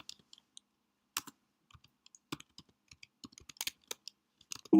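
Keys clack on a computer keyboard while a cat command is typed in a terminal to print a public key, sparse irregular taps with short bursts, quiet and close with no talking.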